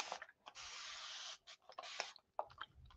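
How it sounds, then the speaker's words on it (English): A spray bottle mists water onto a watercolor palette in several close, hissing bursts, two long sprays and a few short ones, with no talk. "I should spray it with some water."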